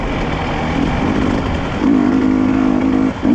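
A KTM motorcycle engine runs steadily on a mountain outing, its loud, close rumble building into a sustained higher rev near the end before dipping briefly, with no talk over it.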